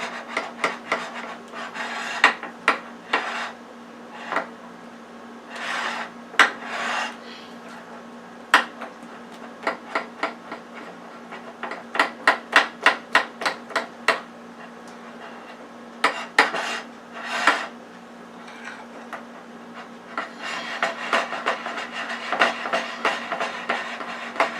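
A utensil stirring chocolate into cake batter for a lemon chocolate marble cake, giving rhythmic scraping and knocking strokes in bursts against the bowl over a steady low hum, close and fairly loud, with no talking.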